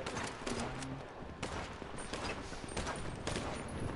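Rapid bursts of gunfire in a GTA 5 online shootout, dense overlapping shots and volleys running throughout with constant game noise behind.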